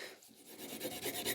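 Sharpening compound is rubbed onto a leather strop, giving a soft, close, continuous rasping scrape with faint rhythmic strokes.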